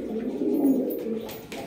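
Soft, continuous cooing from black high-flying pigeons of a Bengali breed, a low throaty murmur rising and falling close by with no talking.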